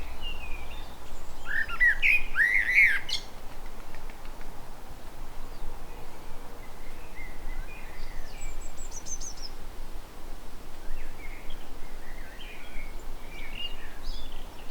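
A young blue tit in a garden near a pond gives a brief burst of high chirps early on, followed by faint scattered tweets over a steady outdoor background.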